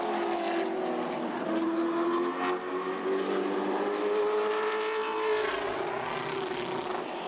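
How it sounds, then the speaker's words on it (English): A Pro Late Model stock car runs a qualifying lap on a short oval track, its engine a sustained loud drone that shifts in pitch as it travels around the circuit, with no commentary. "next up is the Pro Late Models for their turn to take to the racetrack as we welcome the number 24, Jake Bowman"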